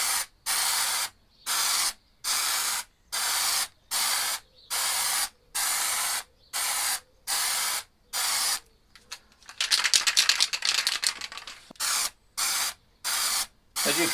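Short, evenly spaced bursts of Granit effect spray paint hiss from an aerosol can, over a dozen close loud puffs, interrupted midway by a rougher rattling stretch before the rhythmic spraying resumes.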